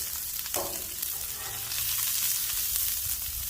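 Asparagus with lemon sizzling on a Blackstone flat top grill, a steady broad hiss of frying with a brief scrape as it is mixed around, close and even throughout, no talking.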